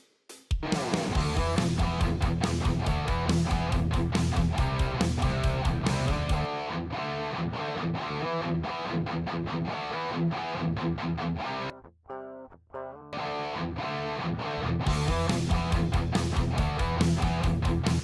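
Heavily distorted electric guitar through a Mercuriall Spark amp simulator with Marshall-style tones plays chords and riffs steadily and loudly, with a brief drop-out near the end before the playing resumes.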